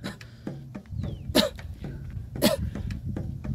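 A man in a dense jungle coughs twice, sharp bursts about a second apart, close to the mic over a background of outdoor noise.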